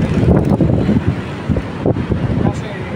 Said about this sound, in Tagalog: Lakas pa rin ang hangin dito guys sa Manila Bay